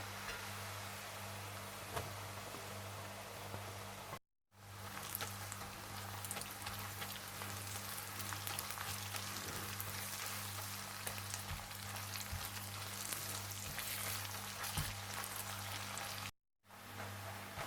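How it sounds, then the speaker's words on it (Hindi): Garlic and ginger frying in oil in a home kitchen, a steady crackling sizzle over a low hum, near and continuous with two brief dropouts and no talk. "जैसे ही लहसुन थोड़ा सा भुन जाए तो आप इसमें अदरक डालकर अच्छी तरह से भून लें।"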